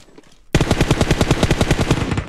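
Rapid automatic gunfire in PUBG Mobile, a loud, steady burst of evenly spaced shots starting abruptly after a short quiet moment and running to the end.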